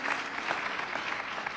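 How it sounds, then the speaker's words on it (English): A morning audience at a founders panel claps, a brief, even burst of many hands at moderate distance, with no voices over it. "Let's give yourselves another round of applause for being here and being so awake."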